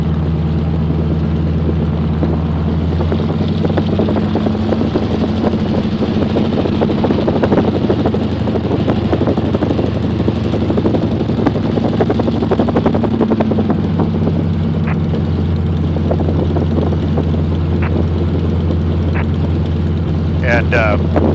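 An AT-6 Texan airplane's radial engine rumbling steadily while taxiing, a loud, continuous droning hum heard from inside the aircraft, with people talking over it throughout.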